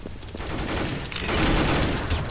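Counter-Strike gameplay gunfire rattles in rapid, loud bursts of automatic shots, a dense fusillade building in intensity over a couple of seconds with no voices.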